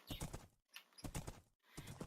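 Horse hooves clip-clop in the Minecraft video game, three short bursts of clattering steps separated by brief silences, fairly close and clear with no talk over them.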